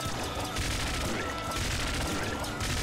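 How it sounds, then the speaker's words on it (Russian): In the game Nuclear Throne, a laser cannon fires a rapid burst of many laser-pistol shots, loud, dense and continuous zapping bursts crackling over each other without a break. "Лазерная пушка, она выстреливает кучей выстрелов лазерного пистолета, по сути."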